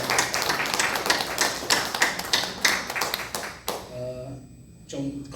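A church congregation claps during a worship service, a dense burst of applause that fades out, followed by a short spoken voice.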